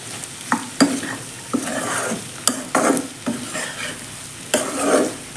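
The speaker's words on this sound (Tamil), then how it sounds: "இன்னும் ஒரு அஞ்சு நிமிஷம் வதங்கட்டும்" Bitter gourd and plenty of onion being sautéed in oil for pavakkai poriyal, with a steady sizzle broken by repeated scraping stirs of a spatula against the pan, close and fairly loud, no voices.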